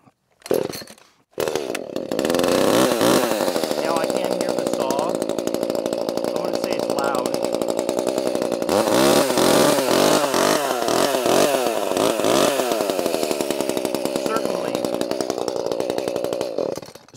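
A 545 chainsaw starts and then runs loud and close, its engine revving up and down repeatedly through cutting work outdoors.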